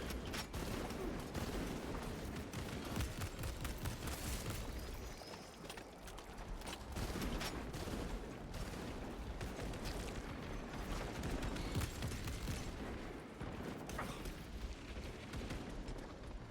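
Rapid gunfire and explosions rattle continuously through a firefight in the video game Warhammer 40K Space Marine 2, a dense, loud barrage of bursts layered over rumbling blasts.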